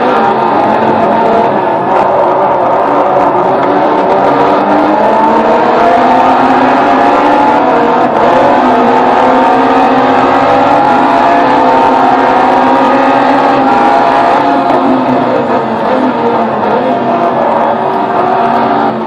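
A car engine in a demanding driving video game revs and drones loudly and continuously, its pitch rising and falling through long sweeps, with no one speaking.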